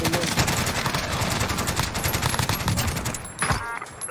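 Dense video game gunfire: rapid automatic bursts overlapping with scattered shots in a close, loud, continuous firefight, briefly dipping before another burst near the end.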